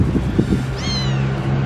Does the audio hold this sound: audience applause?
no